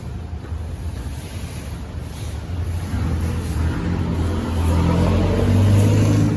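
Cold wind blows across an outdoor shopfront in Surin, Thailand, a continuous low rumbling buffet that gradually strengthens and grows louder toward the end.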